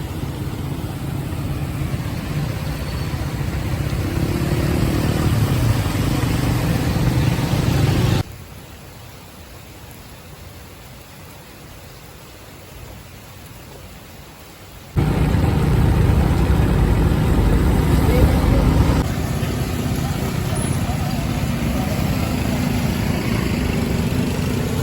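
A motorcycle engine drones loudly on a road in Mirpur, Azad Kashmir, during a heavy rainstorm, with steady engine and wash noise that drops abruptly to a quieter hiss midway before returning at full strength.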